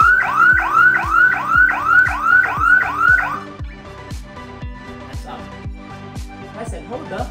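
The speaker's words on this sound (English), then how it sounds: "once it reached the time, it will buzzer for at least 3 seconds" An electronic sports scoreboard timer buzzer sounds at the end of a countdown in rapid repeating warbles for about three seconds, then cuts out, leaving quieter steady beeps behind.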